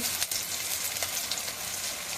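Steady, dense crackling sizzle of chopped onions and nigella seeds frying in hot oil in a wok, close by and continuous with no talking.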